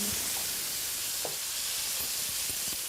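A filet sears in a hot pan, giving a steady, dense sizzle and hiss that stays even throughout, with a few faint clicks and light stirring sounds and no talking.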